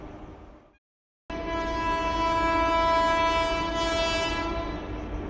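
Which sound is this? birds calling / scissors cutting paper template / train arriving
train arriving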